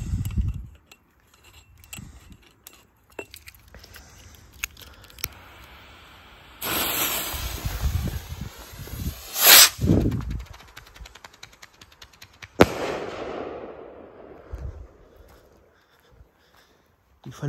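Thunder-and-lightning firework rockets launch with a whooshing hiss and burst in a couple of sharp bangs, heard at moderate distance amid rustling and handling noises outdoors.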